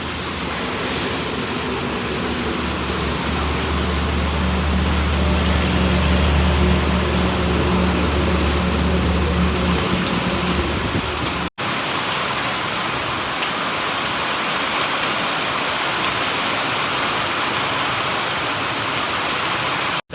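Steady rain pours down in a dense, constant hiss that stays loud and unbroken throughout, with no voices.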